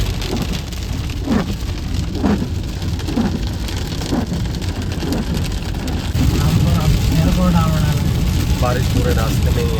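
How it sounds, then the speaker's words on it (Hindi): Heavy rain drums steadily on a car driving along the Rudrapur–Gadarpur highway, with road rumble underneath and a few faint voices mixed into the continuous wash. "बहुत जोर से बारिश हो रही है।"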